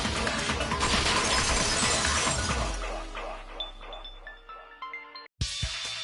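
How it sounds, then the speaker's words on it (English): A vase shatters in the game Danganronpa 2 with a loud, bright crash of breaking glass and ceramic, then scattered tinkling pieces that fade, followed by a brief silence and a sharp game sound effect. "If it wasn't the window, then what broke to make that sound? A vase."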